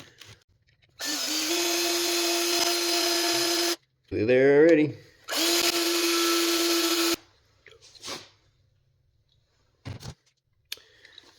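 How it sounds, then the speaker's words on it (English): Power drill with a 3/16 drill bit boring into a Subaru Forester part during a wheel swap, two loud sustained whirring runs separated by a short rev-up, close by, followed by quieter taps and brief talk. "Anyway, going with this drill bit,"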